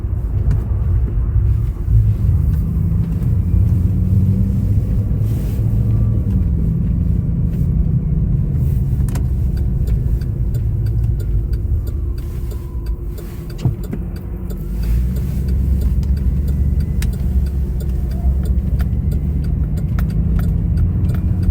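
A snowmobile engine running steadily in icy, snowy Alaska, a loud continuous low rumble with slight shifts in pitch and no voices.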